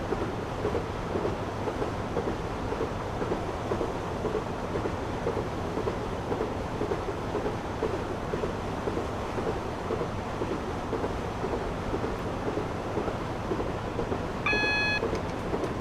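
Class 150 diesel train coasting with power idled in Train Simulator 2016, a steady low rumble of wheels and cab noise running evenly throughout, with a short electronic beep near the end.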